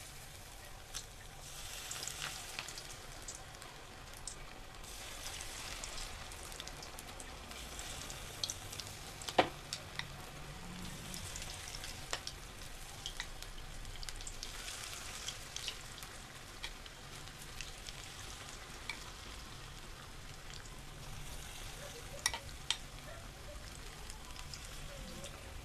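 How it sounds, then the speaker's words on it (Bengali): Semolina pakoras deep-frying in hot oil, a steady crackling sizzle throughout with scattered sharper pops, close and fairly quiet, no voices. "এখন তেলটা গরম হলে আমি একে একে পকোড়াগুলো ভেজে নেবো"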